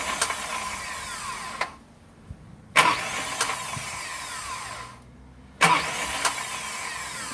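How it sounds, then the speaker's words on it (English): An Isuzu 4HG1 inline diesel engine, freshly bled after a leaking fuel injection pump repair, cranks in three loud bursts with short silent gaps between them, each with a whining starter and rough engine churn. "let's give it a start up and see if it leaks"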